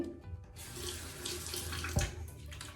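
Tap water runs steadily into a sink, a continuous splashing stream with a brief louder splash near the end.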